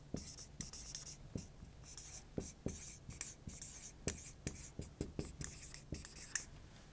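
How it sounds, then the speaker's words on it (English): Chalk or marker writing on a board during a neuroanatomy lecture, faint scratchy strokes with sharp taps as each stroke starts, arriving in quick irregular bursts over a quiet room. "I will write that for you on the board."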